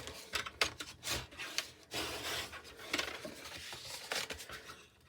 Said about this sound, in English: just fold and burnish all of your score lines